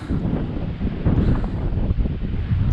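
Storm-driven surf breaking on a Brittany shore, heard as a continuous, loud rumbling wash mixed with heavy wind buffeting the microphone, with no talking.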